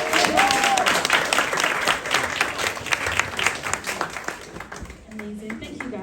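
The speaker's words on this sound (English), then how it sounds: "please give a round of applause for the lovely Misha." A cinema audience at a London film screening breaks into sustained, dense applause with scattered voices mixed in, the clapping holding strong before easing off near the end.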